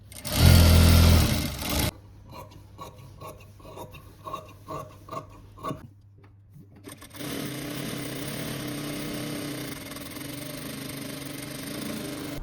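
A sewing machine stitching fabric for a frilled dress runs in short bursts at first, then settles into a steady, even whirring drone for several seconds, fairly close and with no talking.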